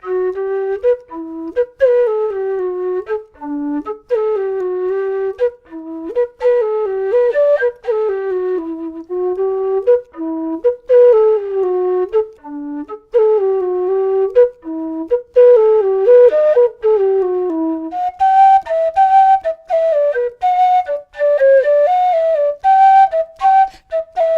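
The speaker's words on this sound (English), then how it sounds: "smooth, breathy, airy sort of sound typical of low whistles" A low D whistle with an aluminium mouthpiece plays a slow solo melody, breathy and airy, with short pauses between phrases.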